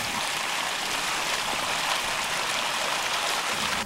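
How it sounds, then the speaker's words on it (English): Water rushes from an opened fire hydrant in a steady, loud, broadband roar that continues without pause for a few seconds, alone and without voices. "To clear smaller waste from the barrel, open the hydrant slowly."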